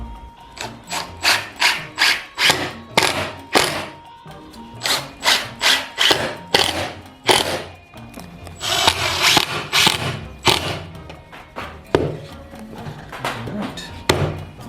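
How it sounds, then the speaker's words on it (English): A power screwdriver or drill driving screws to fasten down part of a mould, loud close bursts of whirring in rapid repeated pulses, with grinding rasps and brief pauses between runs. "So now we're just going to screw this guy down."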